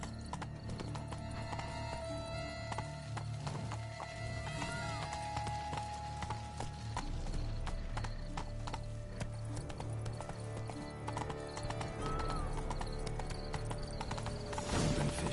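Horse hooves clip-clopping at a steady trot in The Witcher 3, a continuous rhythmic patter over game music and ambience, with a brief whinny and faint mechanical clatter.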